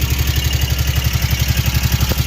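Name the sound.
ATV engine started and ridden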